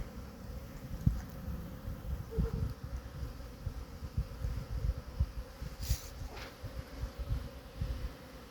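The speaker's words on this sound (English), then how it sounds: "Bees everywhere." A steady low buzz of many honeybees around a hive fills the air, continuous and close, with occasional louder passes near the listener.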